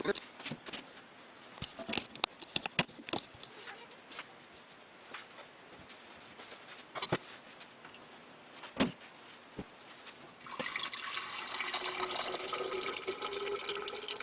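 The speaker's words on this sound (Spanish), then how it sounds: "esta agua que tenemos en estas 2 jarras es agua purificada de nuestro tanque que acabamos de drenar" Purified water drains from a reverse osmosis tank into a jug. Scattered clicks and knocks come first, then a steady, close pour of water begins about two-thirds of the way through and continues to the end.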